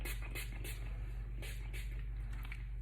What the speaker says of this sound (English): spray it all through my roots.